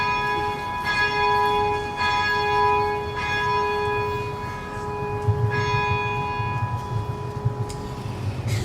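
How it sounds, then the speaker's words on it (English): The third bell of the Gordon Stuart Peek Memorial Bells at the UW rings alone: about four clear, resonant strikes at slow, steady intervals, each leaving a long humming tone that blends into the next. "It's the third bell."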